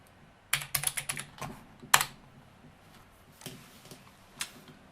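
Computer keyboard typing in a quiet room: a short burst of clustered clicky keystrokes, another sharp cluster, then sparser taps, close and fairly light.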